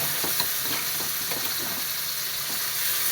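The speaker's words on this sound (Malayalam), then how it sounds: "അതിലോട്ട് ഒരു രണ്ട് സ്പൂൺ നെയ്യ് ഒഴിച്ച് കൊടുത്തിട്ടുണ്ട് ഈ കടല അതിൽ വാരിയിട്ട് കൊടുക്കാം" Chickpeas frying in ghee with coconut pieces, a steady close sizzle with scattered stirring scrapes running through the whole stretch, no voices.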